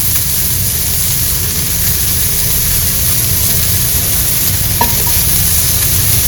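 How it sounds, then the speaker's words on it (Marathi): Onion fries in hot oil in a home kitchen, giving a dense, steady sizzle that stays close and even from start to finish, with no one talking. "आता कांदा तळून घेणार आहे मी"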